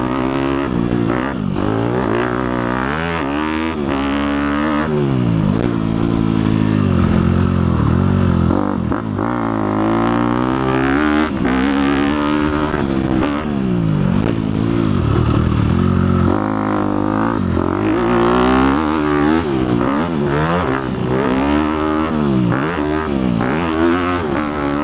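A 2018 Honda CRF250 big bore dirt bike roars at full throttle while being ridden, its loud, close engine note rising and falling repeatedly through shifts and bursts of acceleration.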